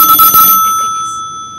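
Telephone ringing on a call-in line, a short electronic ring burst with steady tones that cut off quickly and fade into a quiet line.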